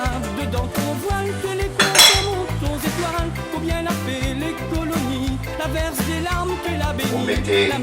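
A metal cooking pot clanks and rattles against the stove grate in a home kitchen, a close, busy run of metallic knocks and clinks with no talking.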